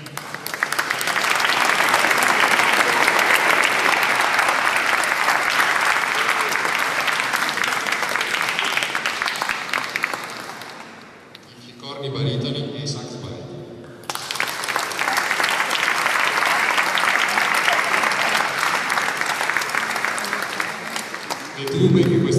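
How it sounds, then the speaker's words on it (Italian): Sustained, dense applause from a concert audience after a performance of Peter and the Wolf, loud for about ten seconds, then a short pause with a speaking voice, then another long burst of clapping. "quindi doppio applauso"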